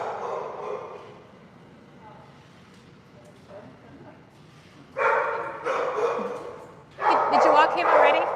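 Dogs in animal shelter kennels bark and yip in bursts, with quieter whimpers between, and the barking grows louder and denser toward the end, with voices talking in the background.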